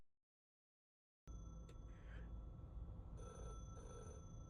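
Telephone ringing inside the video game The Last Caretaker, a steady electronic ring that starts after a moment of silence and keeps going at a constant level, with two louder pulses near the end.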